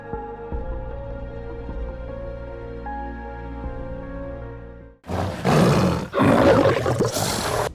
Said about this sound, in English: the first roar shook, echoing through the thin mist